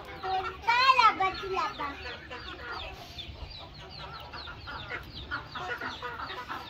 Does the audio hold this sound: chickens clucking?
yes